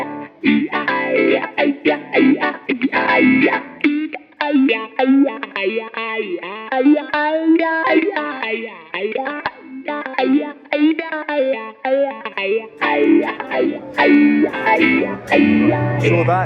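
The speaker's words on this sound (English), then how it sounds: "a little demo of another wah, two Tuberville sounds" An electric guitar played through a Sonuus Wahoo wah effect pedal gives distorted, sweeping, vocal-like notes and chords in a continuous riff, with quacking filter movement throughout.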